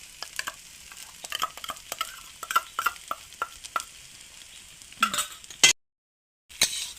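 Eggs and potatoes frying together in a pan, with a spatula scraping and tapping in a quick irregular rhythm over a soft sizzle, close by, before a short silent break.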